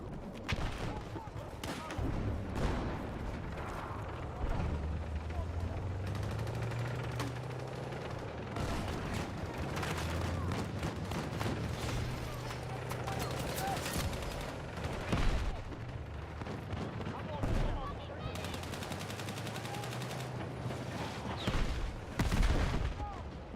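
Video game gunfire rattles in repeated bursts and scattered booming shots aimed at the players, with heavy explosions mixed in, while voices talk over the fighting.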